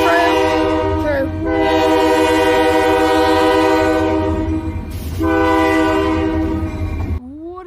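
Kiamichi Railroad locomotive 202 sounds two long, loud horn blasts at close range in Idabel, Oklahoma, over a steady low rumble of the passing train.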